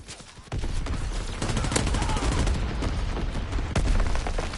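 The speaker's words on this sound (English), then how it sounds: "Is this my team shelling the area here?" Shelling and gunfire in a shooter video game: rapid, dense bursts of shots and booms begin after a short quiet start and keep going, loud and close.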